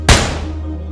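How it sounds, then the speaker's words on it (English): A single gunshot bang cracks out sharply and loudly, then decays into a low ringing tail lasting under a second. "the loud and sudden bang of a gunshot caught me off guard"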